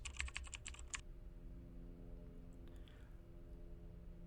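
A computer keyboard is typed in a quick burst of about eight sharp, close clicks during the first second, followed by a quiet room hum with no speech.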